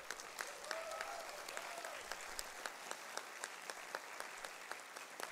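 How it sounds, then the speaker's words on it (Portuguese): Faint, thin applause from an audience at a special session at the Teatro Amazonas, honouring the culture secretary; scattered individual claps stand out, distant and quiet, with a brief voice early on. "eu peço aplausos para o nosso secretário de Cultura"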